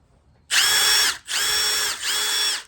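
A DeWalt cordless drill driver whirs loud and close in three steady bursts, separated by brief pauses.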